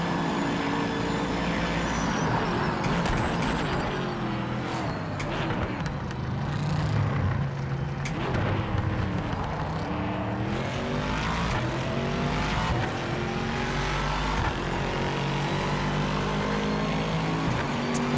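A race car in a racing video game with its tires wearing down roars continuously at high revs, the engine pitch climbing and falling through gear shifts, loud and steady the whole time.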